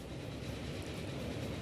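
A train hammers past at speed in the railway-building game Archipelago, a steady, dense rumble with faint rhythmic clatter, close and moderately loud throughout the short moment.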